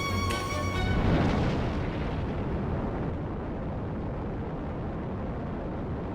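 A rocket blasts off in Minecraft's Create mod: a loud, broad roaring rumble that swells in the first second, with a brief tonal whine at the start, then holds as a steady wide-band roar with no speech.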